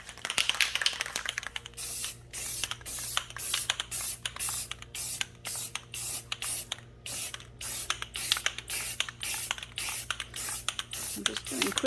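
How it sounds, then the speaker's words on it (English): Spray paint hisses from a can in a hot garage in quick short bursts up and down a grooved vase. The spritzes repeat in a steady rhythm, close and continuous. "I'm just doing quick little spritz up and down"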